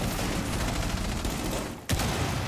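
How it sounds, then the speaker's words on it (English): Rapid gunfire in the video game Rainbow Six Siege, shooting at a window: a loud, dense burst of close shots that breaks off briefly, then resumes. "I'm gonna shoot your window"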